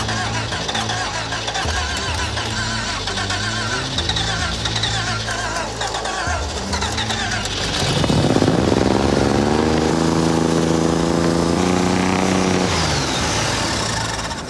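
Brubaker Box car engine cranking and catching, then revving hard at wide-open throttle from a stuck throttle linkage, a loud, sustained roar holding near the end before easing.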